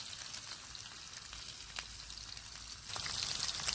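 Fish slid into very hot coconut oil sizzles with a steady, soft, fizzing crackle that grows louder and denser toward the end.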